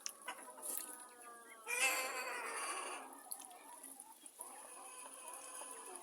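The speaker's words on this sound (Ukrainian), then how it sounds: "Дивіться, які качечки ходять." Young ducklings from a small flock of eight move about outdoors, giving soft, scattered clucks and peeps at close range, with a brief louder flurry of calls and rustling partway through and no talk.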